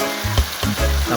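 Carrots go into a hot pan for sotanghon guisado with chicken liver and shrimp, making a loud frying sizzle with rhythmic scraping bursts from stirring.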